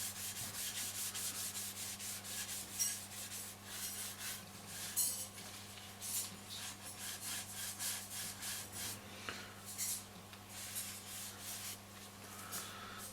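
Oil being rubbed by hand into the case of a Roberts R600 radio during restoration, a close, steady series of brisk rubbing strokes over a low constant hum.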